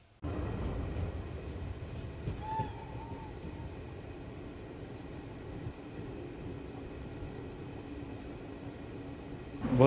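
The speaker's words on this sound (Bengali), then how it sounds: "আমাদের ট্রেন ব্যান্ডেল জংশন ছাড়ার পরে তার স্পিড নিয়ে নিল" The Gour Express runs near Bandel Junction, heard from onboard as a steady low rumble of rolling wheels and carriage noise, with a faint whistle-like tone at one point and a louder swell right at the end.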